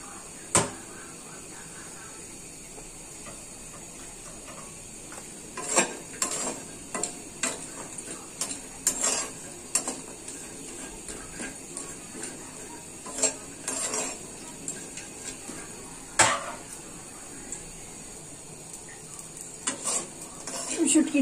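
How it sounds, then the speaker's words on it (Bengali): Dried fish (shutki) frying in a pan with a soft, continuous sizzle, broken by frequent sharp scrapes and clicks of a utensil stirring against the metal, up close throughout. "ছুটকি দিয়ে আমার প্রায় ভাজা হয়ে গিয়েছে আর একটু নাড়াচাড়া দিয়ে নামাই দেব"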